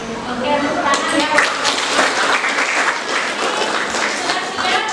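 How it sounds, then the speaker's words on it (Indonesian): Students in a classroom burst into brief, dense clapping, with voices mixed into the applause. "oke, tepuk tangan ya."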